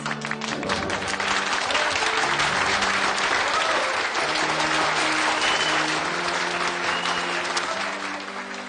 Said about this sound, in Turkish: Bu alkış sesleri nereden gelir anlamıyorum bir türlü